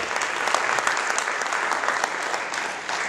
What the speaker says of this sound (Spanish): Den un aplauso al Señor, hermanos, por lo bueno que es Él